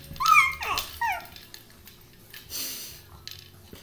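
A dog gives a few sharp, high barks and yips near the start, then softer whimpering whines trail off, all close and loud with no talk over them.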